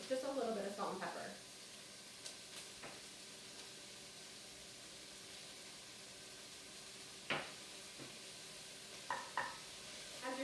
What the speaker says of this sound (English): As you're stirring your vegetables